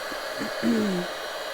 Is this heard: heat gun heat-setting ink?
yes